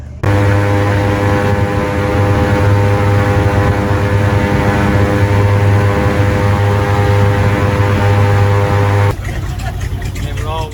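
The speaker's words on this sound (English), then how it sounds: "they also had another attraction, and that was an airboat ride through the Everglades" A loud, droning airboat engine and propeller roar close by on a ride through the Everglades, steady and throbbing, shifting in tone near the end; people talk over it.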